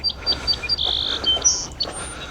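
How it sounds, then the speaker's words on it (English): Birds chirp at a dog park, a series of short, bright tweets and a few longer whistled calls scattered across the moment, fairly close, over a faint background hum with no talking. "Birds chirping."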